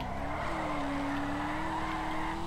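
A Drift King car in GTA 5 drifts and skids in one long, loud tire squeal that holds steady over a continuous engine roar, with no talk.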